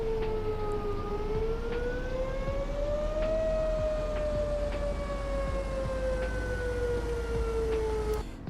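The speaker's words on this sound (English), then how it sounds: "Tornado sirens are weird." Outdoor tornado warning sirens wail steadily for the whole stretch, the long tone slowly rising and falling in pitch as it sweeps around, loud and continuous over a low background rumble.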